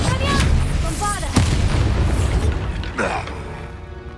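A spell explosion in the Hogwarts Legacy video game sounds as a heavy boom with whooshing magical effects and bursts, loud and close, while a voice calls out spell names.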